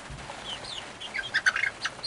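A chicken housed in a converted 1959 Chevy pickup clucks in short, close bursts, the calls grow louder and choppier toward the end, with no talking.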